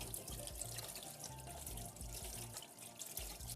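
A kitchen tap runs steadily and close while a fish is cleaned under the open stream, with splashing and dripping bursts over the constant flow.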